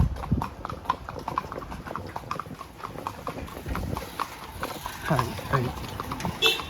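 Horse hooves clip-clop in a steady walking rhythm during a ride at Kodaikanal Boat House, close and continuous, with people talking over them.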